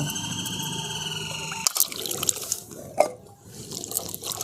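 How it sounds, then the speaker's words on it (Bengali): Water splashes and trickles as cut carrot pieces are rinsed, a steady running-water hiss giving way to sharper drips and sloshing bursts in the second half, close and fairly quiet. "গাজরগুলোকে আমি এরকম টুকরো টুকরো করে কেটে নিয়েছি এরপর ভালো করে ধুয়ে নেব"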